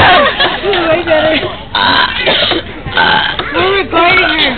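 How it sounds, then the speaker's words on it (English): A person lets out several loud, drawn-out burps in a row at close range, with people chattering and laughing around them between the belches. "You should win the burping contest."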